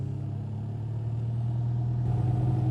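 A Toyota Tacoma TRD Pro crawls off-road on crawl control, its engine giving a steady low rumble that swells slightly toward the end, close and continuous with no talk.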